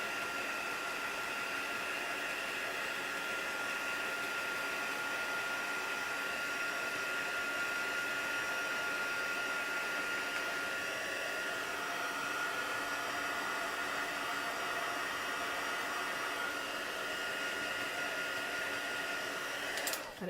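A handheld heat tool blows steadily while drying a craft piece, producing a constant whooshing hiss like a hair dryer that runs unbroken and fairly close for about twenty seconds.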